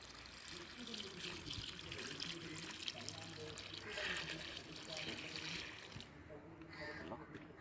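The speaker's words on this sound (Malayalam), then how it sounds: "വെള്ളം ഒഴിച്ച് നമുക്ക് ടെസ്റ്റ് ചെയ്ത് നോക്കാം ഇതിനകത്ത് ലീക്കോ വല്ല എന്തെങ്കിലും ഉണ്ടോ എന്നൊക്കെ അറിയാൻ വേണ്ടി" Water pours steadily into a small homemade guppy aquarium being filled to test for leaks, a continuous splashing rush that runs for several seconds with a voice talking faintly underneath.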